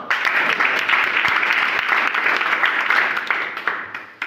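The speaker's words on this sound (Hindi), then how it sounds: "चलो ताली बजाओ" Classroom of students clapping together during a spoken-English lesson, a dense, steady round of applause that fills the whole stretch and tapers slightly at the end.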